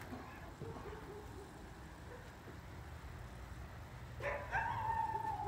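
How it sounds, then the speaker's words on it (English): Dogs in a neighbouring yard bark and yelp near the end, a few sharp high calls rising over faint backyard ambience after a quiet stretch, heard at moderate distance. "Got some dogs as neighbors."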